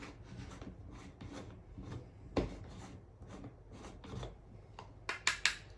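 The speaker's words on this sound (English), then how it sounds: "So I just put it in the grinder." Herb grinder grinding a cannabis bud, with repeated close rubbing and scraping twists in an uneven rhythm, ending in a few sharper clicks.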